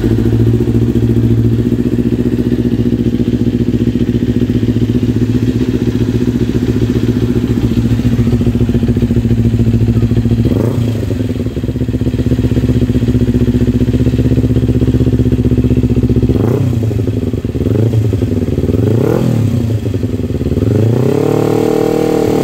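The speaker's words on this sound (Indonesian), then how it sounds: "Kita cek sound motornya biar lo pada denger knalpot WRX GP3 K3 di Ninja 250 FI" A Kawasaki Ninja 250 FI sport motorcycle idles with a deep, throaty WRX GP3 K3 aftermarket exhaust, then revs sharply several times, each rev rising and dropping back to idle.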